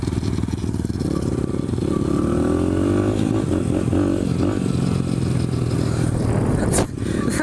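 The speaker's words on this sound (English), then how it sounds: "You can't hear my bike over his." Dirt bike engines rev hard and close, a loud continuous roar that rises and falls in pitch throughout, with a brief dip near the end.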